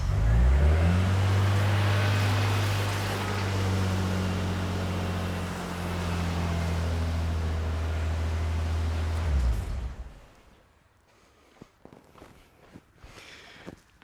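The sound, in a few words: 1998 Nissan Skyline R34 engine started and running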